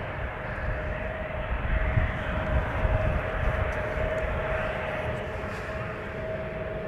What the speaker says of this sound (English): Looks like an A350.